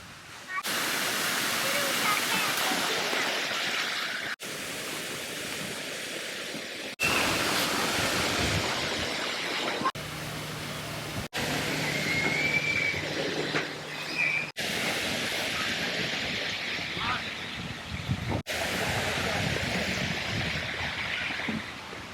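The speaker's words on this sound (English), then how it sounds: "I'm at the edge of the pool, and maybe 30 steps away is the beach, and another 30 steps is the ocean" Outdoor ambience at the pool edge of a beachfront resort in Cancun, Mexico, with the ocean close by: a steady broadband wash of surf and water noise, moderately loud, cut by a few abrupt breaks.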